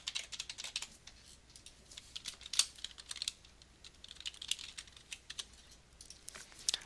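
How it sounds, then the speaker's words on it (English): Steady clatter of keys on a computer keyboard as a Wi-Fi password is typed in, with irregular quick bursts of close, crisp clicks and no voices. "so just type this stuff in"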